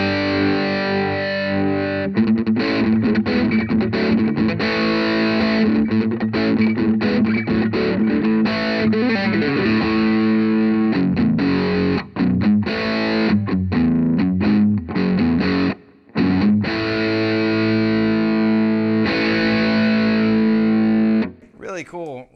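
A heavily overdriven electric guitar through a boosted Kinsmen Ethos overdrive pedal plays sustained, saturated chords and riffs, loud and continuous with a couple of brief pauses, ending on a ringing chord.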